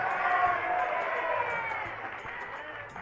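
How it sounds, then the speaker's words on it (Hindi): Crowd applause at a grand religious welcome ceremony for a Jain acharya in Wardha, Maharashtra: a dense, steady roar of many hands that holds loud and unbroken, then eases slightly toward the end. "तालियों की आवाज में तो वृद्धि हो गई"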